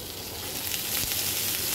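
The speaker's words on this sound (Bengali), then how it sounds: "তো পেঁয়াজটা 2 মিনিট ভাজা হোক।" Onions fry in a pan with a close, steady hiss of sizzling that grows slightly louder, with no talking.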